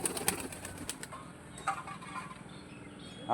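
Pigeons kept by a Bengali fancier stir and flap close by, with a few wing bursts early on and soft fluttering afterward, faint and sparse with no clear cooing.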